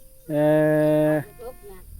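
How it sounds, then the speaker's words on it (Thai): A water buffalo lets out one loud, drawn-out low moo, close by, while the herd is driven into its pen in the evening in rural Thailand; faint quieter sounds follow. "นี่แหละยามค่ำวันนี้เขาจะไล่ควายเขาคอกทุกคนเลย"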